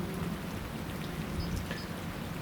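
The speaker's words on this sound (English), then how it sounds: "you see that dry spell is over. But it's not a heavy downpour." Light rain shower falling after a storm has passed, a steady even patter of drops with no talking.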